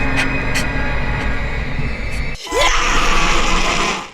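A woman's hysterical screams from a horror film, loud and drawn out, rising sharply after a brief break over a heavy, rumbling background.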